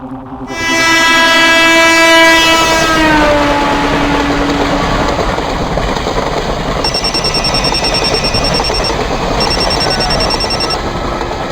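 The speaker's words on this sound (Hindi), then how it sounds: "ट्रेन में हूँ अब्बू, घर आ रहा हूँ।" A running train sounds a loud horn blast that fades after a few seconds, then a steady rumble of wheels on track continues, with a high ringing tone entering later.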